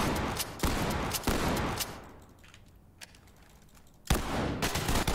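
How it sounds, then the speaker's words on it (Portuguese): Shotgun blasts in a video game boom out loud and close, a few sharp reports with gaps between them, a mechanical racking in the quieter middle, then another blast near the end. "Três tiros de shotgun e nada."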